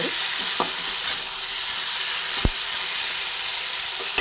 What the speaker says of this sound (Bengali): সেই খোসাগুলোকে এক এক করে এর মধ্যে দিয়ে দেবো দিয়ে দিলাম আবার একটু ভালোভাবে নাড়াচাড়া